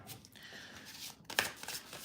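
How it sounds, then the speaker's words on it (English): Tarot cards being shuffled by hand, a soft papery riffle with a brief snappy burst near the end, quiet and close with no talking. "One more shuffle."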